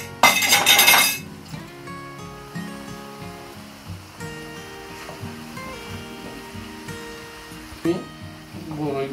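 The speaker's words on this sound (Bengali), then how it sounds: "বড়িগুলো ভালো করে মিক্স করে নিতে হবে" Dried plums being mixed with curry powder, coriander powder and garam masala in a bowl, giving a loud clatter at the start and then soft repeated clinks and scrapes of a utensil against the bowl.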